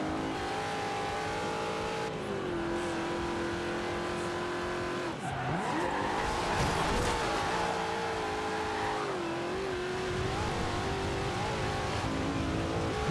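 A car in the racing game Forza Horizon 2 drifts and skids, engine revving and shifting pitch as tires squeal through the slide, with a brief dip then renewed acceleration, loud and close with no talk.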